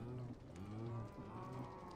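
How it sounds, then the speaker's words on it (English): Cow mooing in modded Minecraft, a low drawn-out bellow that overlaps itself as several calls repeat close by. "The amount of cow noises I just heard."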